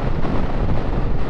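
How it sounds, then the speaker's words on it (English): Heavy wind roars and buffets around a helmet on a 2022 Speed Twin 1200 motorcycle ride, a loud continuous rumble with no voices. "Definitely windy though."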